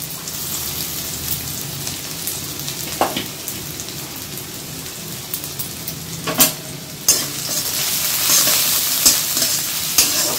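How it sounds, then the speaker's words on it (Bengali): A medium onion, chopped, fries in a pan with a continuous crackling sizzle, close up, with occasional sharp clinks and scrapes of stirring. "পেঁয়াজটা নরম করে একদম ভেজে নেব"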